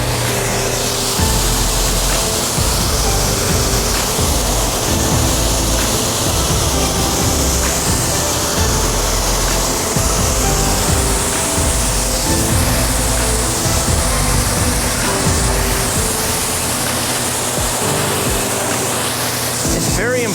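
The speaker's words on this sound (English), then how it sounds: "Now we've got the whole car washed here, so we're just going to rinse it off." Hose water rinsing soap off a freshly washed car outdoors, a loud, continuous spraying hiss filling the whole stretch, with a voice talking partly over it.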